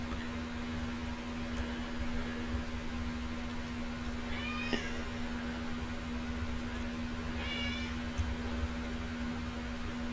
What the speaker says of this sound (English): My cat's crying. It's time for her dinner